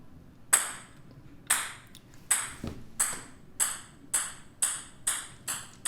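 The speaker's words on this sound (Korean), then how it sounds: "얌체공 같지 않게 강력하게 튀어올릅니다" A ping pong ball bounces steadily about eight times, each sharp click followed by a short ring, evenly spaced against a quiet background.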